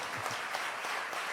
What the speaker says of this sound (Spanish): Yo creo que Él se merece un fuerte aplauso.